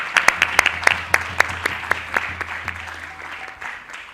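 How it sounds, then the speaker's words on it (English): Applause from an audience at a temple manor gathering, a handful of separate, fairly near claps early on that thin out and fade over about four seconds. "a round of applause."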